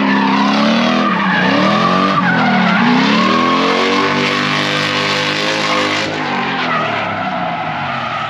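A BMW E46 drift car at a drift day skids continuously with loud screeching tires over a roaring, revving engine, close and sustained throughout with no talk.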